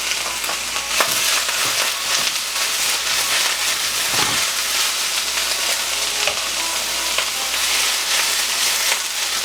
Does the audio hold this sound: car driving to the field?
no